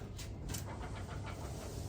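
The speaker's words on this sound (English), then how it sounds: "I can hear the locker ratcheting on this side" A broken differential locker in a Jeep Grand Cherokee ZJ ratchets with quick repeated clicks under a steady low drivetrain rumble, heard close and continuous.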